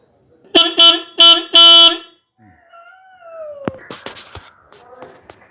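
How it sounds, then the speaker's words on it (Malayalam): The horn of an AK Rider 70 under repair gives three short, loud, buzzy honks in quick succession, followed by fainter clicks and rustling. "ഈ ഹോണിൻ്റെ സൗണ്ട് നമുക്കിതിപ്പം കേട്ടല്ലോ."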